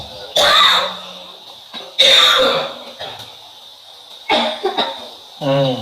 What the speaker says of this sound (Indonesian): Batuk semua, ya.